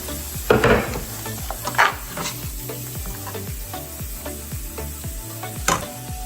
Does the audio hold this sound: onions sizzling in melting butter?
yes